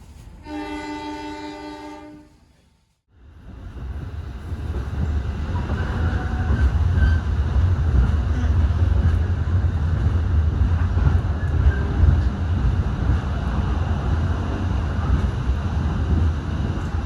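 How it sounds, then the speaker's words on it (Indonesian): A KRD local economy diesel train on the Babat to Bojonegoro line opens with a loud sustained horn blast, then a brief lull before a steady, heavy rolling rumble of wheels and engine carries on close by. "Saat ini perjalanan kereta api ekonomi lokal KRD tiba di stasiun Kapas"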